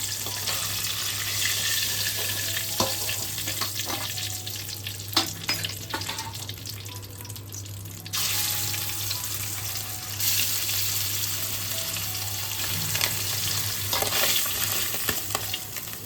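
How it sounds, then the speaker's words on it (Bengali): Hilsa fish pieces fry lightly in oil, a steady close sizzle with occasional scraping stirs and a low hum underneath. "মাছগুলোকে খুব একটা কড়া করে ভাজবো না, হালকা করে ভেজে নেব।"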